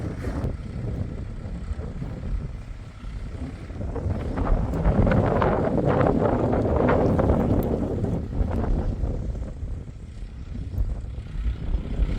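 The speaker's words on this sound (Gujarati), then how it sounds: "હવાની સુસવાટા મારે હવે" Wind gusts across an open farm field during groundnut sowing, a steady broadband roar that swells in the middle and eases off toward the end, with no talk.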